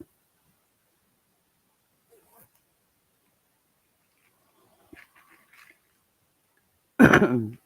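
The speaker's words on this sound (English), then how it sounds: "Sorry for coughing." After a long near-silent stretch with a few faint rustles, one loud, close cough bursts out at the end.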